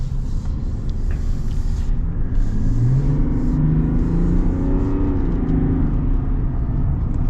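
2024 Chevy Silverado 1500 RST pickup accelerating, a deep engine rumble climbing through rising gear tones, steady and fairly loud from inside the cab, no one speaking.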